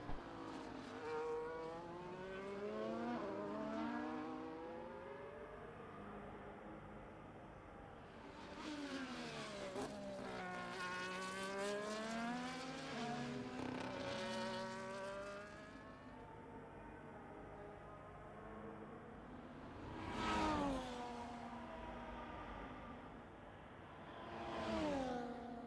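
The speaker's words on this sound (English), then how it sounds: "I'm surprised to see so many cars out on track right now." Race cars lapping the Qatar circuit in a racing video game, several engines revving and shifting through the gears, with cars sweeping past closer and louder at moments, and no talk.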